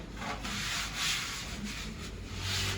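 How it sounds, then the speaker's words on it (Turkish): Steady abrasive rubbing of a spiral sander smoothing a mulberry-wood saz body, continuous and fairly close, with slight swells in intensity and no voices. "Spiral zımparamızla inceliklerini yaptık arkadaşlar."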